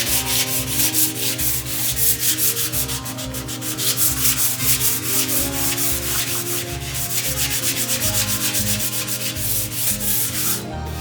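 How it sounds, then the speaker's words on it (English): Fine sandpaper rubs over painted vintage furniture in steady back-and-forth strokes, a close, loud, rhythmic scratchy rasp with no voices. "I used fine sandpaper to smooth away the bumps."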